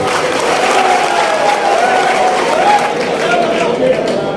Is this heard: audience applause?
yes